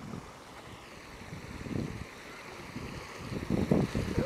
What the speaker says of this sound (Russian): Тут фонтан, как горная река, Саш.